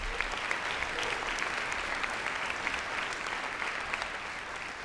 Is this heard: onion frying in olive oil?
no